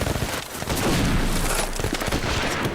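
Dense gunfire from a WWI Somme battle reenactment, with a Maxim machine gun firing amid a continuous fusillade of rifle shots and bursts, loud and close throughout with no pauses.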